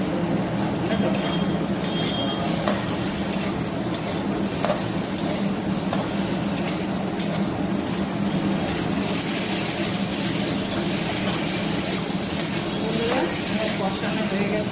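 Jackfruit and chopped tomatoes frying in a pan, a continuous loud sizzle with repeated stirring and scraping of a spoon against the pan, plus faint clinks of metal.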